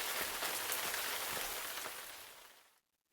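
Steady rain falling on a street, a dense close hiss of drops hitting the surface that holds evenly, then fades away to silence near the end.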